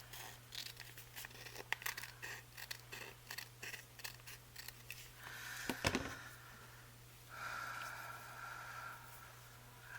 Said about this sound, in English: I'm just barely trimming that edge, just enough to open that pocket.